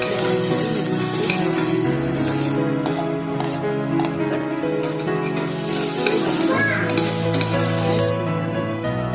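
Garlic and curry leaves frying in hot oil for Hyderabad-style paneer 65, a busy close sizzle with crackling pops and stirring clatter, bursts of hissing spatter coming and going.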